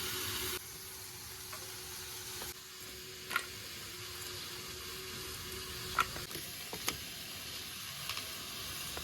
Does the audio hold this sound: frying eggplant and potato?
yes